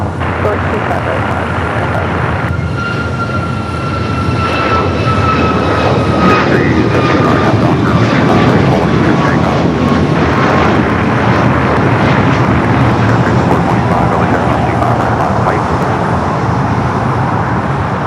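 An airliner taxiing toward runway 25 right at LAX gives a steady, loud engine drone with a faint high whine, set against background traffic noise, while a voice talks over it.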